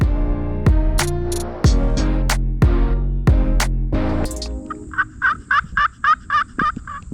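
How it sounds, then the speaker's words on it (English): A wild turkey gobbler gobbles loudly and close several times in sharp rattling bursts. A run of quicker, higher, rhythmic calls follows near the end, with no voices. "we heard a gobbler sound off"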